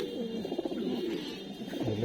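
Racing pigeon, a red chequer cock from a BRPEL club, cooing softly and steadily, close by, with low murmuring coos running through the whole stretch.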